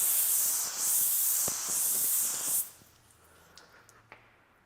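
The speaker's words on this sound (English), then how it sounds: "let me spray some water on here and we'll see what type of beading we have" A loud, steady hiss of water spraying from a nozzle onto a coated surface for about two and a half seconds, then stopping, leaving faint drips and small taps as water beads and runs off.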